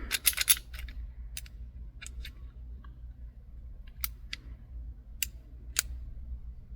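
Small metallic clicks from a Sig P238/938 pistol's slide stop tab sliding under its spring during reassembly, several faint sharp ticks spaced apart over a low steady hum.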